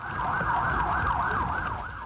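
An ambulance siren wails loud and close, its tone sweeping up and down in a steady repeating cycle over a low traffic rumble.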